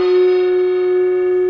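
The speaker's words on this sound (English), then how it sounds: "this will have a sort of a lighter sound because this is nickel silver, sheet nickel silver" A sheet nickel silver gong rings with a lighter tone, one steady sustained note carrying bright overtones that hold evenly throughout.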